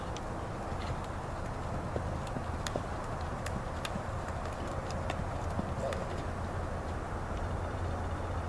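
A horse's hooves clop in a steady flat-walk gait, a run of faint, regular ticking footfalls over a constant low rumble of background noise.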